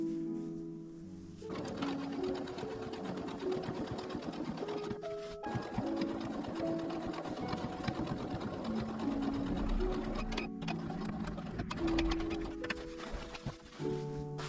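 A sewing machine stitches a tulip-style bag in steady bursts, whirring with a rapid needle rhythm and brief pauses between runs, fairly quiet and close.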